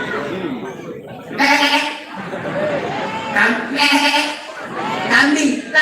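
A preacher's voice imitates a goat, drawn-out wavering bleats rising and falling in several bursts; no ordinary speech is heard.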